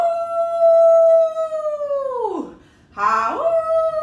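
Human voices howl like werewolves at the moon during a children's Halloween song, imitating wolves. Two long, loud, sustained howls each slide downward in pitch, separated by a short pause.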